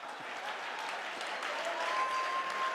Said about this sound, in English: Come on, clap your hand.